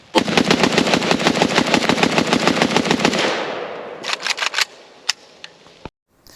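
A Pioneer Arms AKM sport rifle fires a magazine in a long, rapid string of about two dozen loud, closely spaced shots, then a few scattered single shots and metallic clicks as the gun runs dry.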